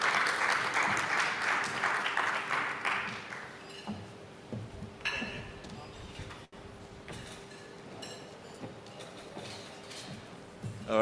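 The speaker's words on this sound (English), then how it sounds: "Please, a very rapturous, because we're not that many, warm round of applause for Mr. Tayo Akiwumi" A small conference audience applauds briefly as a speaker comes on stage, moderate clapping for a few seconds, then fading into quiet room noise, shuffling and scattered taps.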